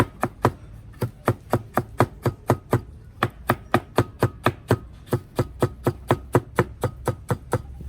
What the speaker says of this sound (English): Nice finely chopped carrots.